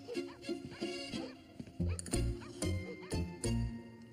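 A small Chihuahua lets out several sharp, loud yapping barks up close, in short bursts spaced about half a second apart over a faint background.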